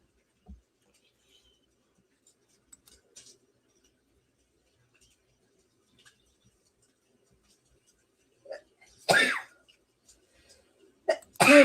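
Mostly quiet, then a sudden sneeze-like burst a little way off, followed by another short explosive sound near the end.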